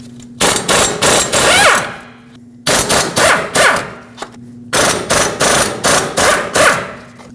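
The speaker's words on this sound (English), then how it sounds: "We'll use a 17mm socket and remove all 4 bolts that hold the hub and bearing assembly onto the knuckle." Impact gun with a 17mm socket rattling out hub and bearing bolts on a Nissan Frontier 2WD, three loud bursts of rapid hammering with short pauses between them.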